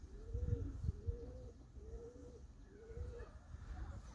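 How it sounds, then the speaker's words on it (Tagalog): Racing pigeons just back home from a 25-mile toss coo in a repeated, low, rounded rhythm, close by and fairly quiet, with faint background noise. "Ayos mga kalapatids. Bumalik."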